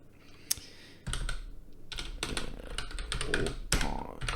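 Typing on a computer keyboard, close and clear, with a single sharp tap followed by bursts of rapid clattering keystrokes in uneven clusters over a low background hum.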